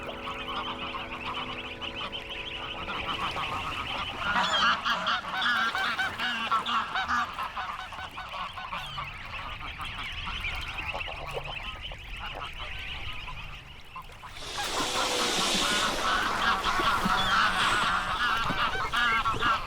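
Wild geese in the Dutch wilderness honk loudly and continuously while confronting a swan, a noisy overlapping chorus with a harsher burst near the end.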